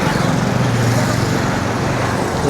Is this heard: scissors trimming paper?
no